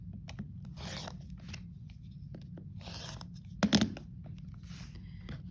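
A rotary cutter slices along a 3.5-inch acrylic sizing square to trim a quilt block, giving soft close rasping strokes spaced a second or so apart, with one louder scraping scrunch near the end.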